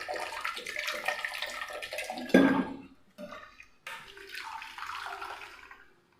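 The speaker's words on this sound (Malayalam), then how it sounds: "ഒരല്പം വെള്ളം കൂടെ ഒഴിക്കാം കേട്ടോ." Water is poured into a bowl in a home kitchen: a short, fairly close splash midway, with quieter kitchen handling sounds before and after.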